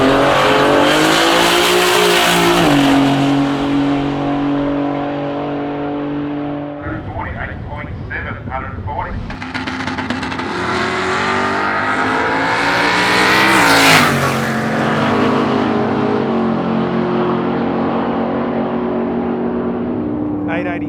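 A Barra-powered, boosted Mustang 8-second street drag car at a street drag event roars loudly through a long full-throttle pass. The engine note swells and shifts across gears, with what sounds like commentary speech layered over it.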